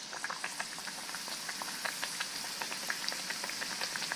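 Stuffed dal puri deep-frying in hot oil, a soft steady bubbling crackle with small pops, heard close but fairly quiet, with no talking.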